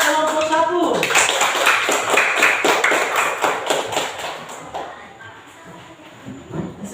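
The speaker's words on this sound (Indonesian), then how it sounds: "beri aplaus kepada kelompok 1" Classroom of students applauding a presenting group, a dense burst of close clapping for about four seconds that then thins and fades out.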